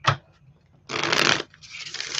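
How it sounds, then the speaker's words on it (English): A deck of tarot cards is shuffled, a short riffle followed by two longer flurries of crisp, close card flicking with brief pauses between them. "That was not a good shuffle."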